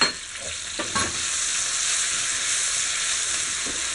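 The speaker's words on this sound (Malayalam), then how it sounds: "ഇനി ഇതൊന്ന് ക്യാപ്സിക്കം നന്നായിട്ട് വഴറ്റിയെടുക്കുക." Chopped capsicum and golden onions sizzle steadily in a hot pan for a cauliflower fry, with a loud continuous hiss broken by a few scraping stirs of a spoon near the start, and no talking.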